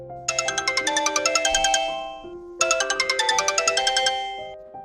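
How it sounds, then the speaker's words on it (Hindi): A phone rings with a bright, repeating electronic ringtone melody in two clear bursts separated by a short pause, loud and close with no talk over it. "अगले ही पल फोन फिर बज उठा।"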